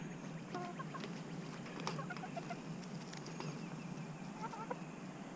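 Roosters and other fowl cluck and call in short bursts over a steady outdoor background hiss, with the calls heard at moderate distance.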